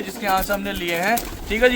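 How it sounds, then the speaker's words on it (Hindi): Punjabi pigeons coo softly in a rooftop loft while someone speaks over them close by, the throaty calls partly blending with his voice. "आप कबूतर देख लो, हकीकत में पंजाब के कबूतर आए हुए हैं भाई के"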